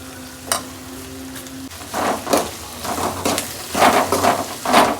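Masala spice powders frying in a pan for a red-bellied fish curry, with a few sharp scraping stirs over a low, steady sizzle, the spoon strokes louder toward the end.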